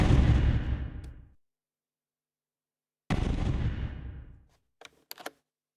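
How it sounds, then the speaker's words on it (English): Explosion sound effects from a Godot space shooter game with aliens and a player ship: two loud booming blasts, each decaying over about a second, separated by silence, followed by a few short crackling pops. "the one with an explosion vanishes with a bang"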